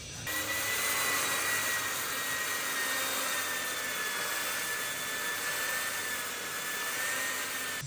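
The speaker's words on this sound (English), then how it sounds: "So just sanding that through now" Steady abrasive whirring of a power sander working on wooden moulding, a continuous high hiss with a faint tonal whine, no talking.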